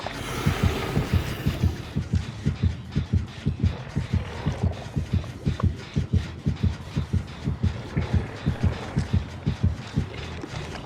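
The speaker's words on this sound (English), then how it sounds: "You will be able to hear their heartbeat, even if you are not looking in the direction at the time." A survivor's heartbeat heard through Killer Instinct in Dead by Daylight thumps in a loud, steady, quickening double-beat rhythm under an eerie low hum, continuing for the whole stretch with no voices.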